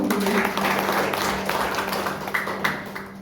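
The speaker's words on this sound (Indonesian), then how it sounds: "Berikan tepuk tangan dong" Congregation at an Indonesian Sunday worship service applauding, a brief spell of clapping mixed with other room sound, with faint voices around it.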